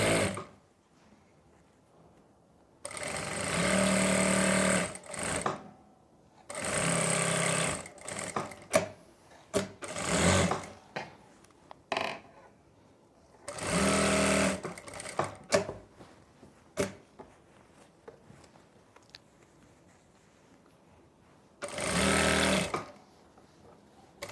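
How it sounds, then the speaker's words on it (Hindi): A sewing machine stitching palazzo pants fabric runs in several bursts of fast, loud mechanical whirring, separated by pauses filled with small clicks and handling sounds. "यहाँ से लेते हुए सिलाई लगाएंगे।"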